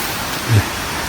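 Continuous rushing water from a nearby mountain stream, a steady broadband hiss with a faint low bump midway.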